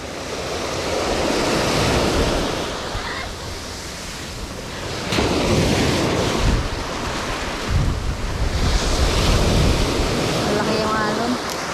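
Big ocean waves surge and wash ashore in strong wind, a loud roaring rush that swells and falls, with buffeting wind noise on the microphone and faint voices near the end.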